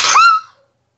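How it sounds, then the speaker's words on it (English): A single sharp human sneeze, loud and close, bursting then fading within half a second. "Hold on, I'm sneezing."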